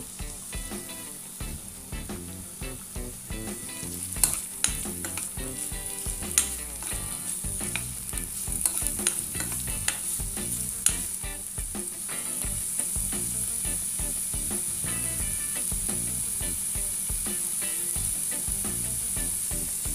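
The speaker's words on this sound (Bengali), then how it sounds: "রসুনটা হালকা ভাজা হয়ে গেছে, এখন আমি একটা পেঁয়াজ কুচি দিয়ে দিচ্ছি।" Chopped onion hits a pan of lightly fried garlic and sizzles loudly and steadily, with scattered stirring clicks throughout and no voices.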